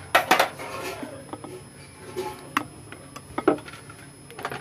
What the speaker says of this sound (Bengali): আমি একটা আম কেটে নিয়েছি, এইবারে ওর সঙ্গে মিশিয়ে দিচ্ছি